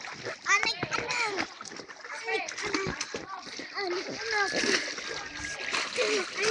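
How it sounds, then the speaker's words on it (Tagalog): A child splashes playfully in water, with repeated splatters and sloshing close by, while children's voices chatter and call out over the splashing throughout. "Nagtatabling ako sa tubig."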